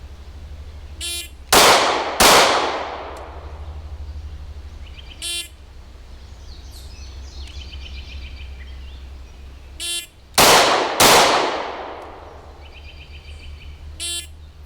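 Handgun shots ring out in a timed shooting drill, two sharp pairs of loud, close reports several seconds apart, each crack trailing a short echo, with faint clicks and clatter between them over a low steady hum.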